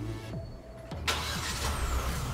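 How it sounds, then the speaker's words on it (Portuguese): A Hyundai HB20S Platinum Safety engine starts by remote from the key button, a cranking catch about a second in, then settling into a steady, close idle hum with no talk. "A versão Platinum Safety do HB20S conta com a partida do motor à distância pela chave."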